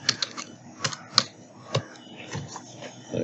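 Computer keyboard typing during Photoshop banner design work, irregular separate keystrokes clicking close by with short pauses between them.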